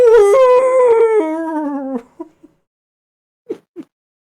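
A human voice imitates a dog howling: a loud, long, wavering howl that slides downward and fades out, followed by a few short yelps, with a game of tabletop wrestling role-play as the setting.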